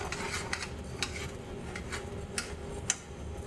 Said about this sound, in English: Stir it up one more time.